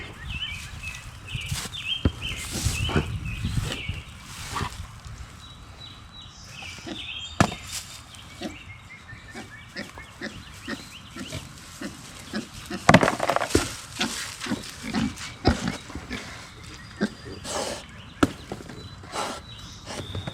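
Pigs on a homestead chomp and crunch through butternut squash close by, with irregular wet crunches and snaps, a few sharper bites standing out over steady chewing.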